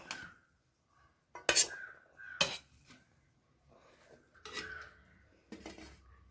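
A spoon scrapes and clinks against a pot as rice is served, in a few separate bursts with quiet gaps between, close by.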